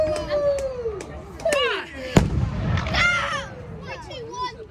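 Bonfire night fireworks go off at a town display, with whistling rockets rising and several sharp bangs, one especially loud, while people nearby talk over the show.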